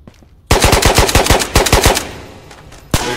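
Gunfire in the video game Ghosts of Tabor: a loud, close burst of about a dozen rapid automatic shots, then a trailing echo and one more sharp shot.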